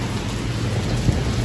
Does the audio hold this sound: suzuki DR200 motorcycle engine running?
no